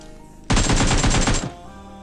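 Video game gunfire: one loud, sharp burst of rapid automatic shots lasting about a second, starting abruptly and then cutting off.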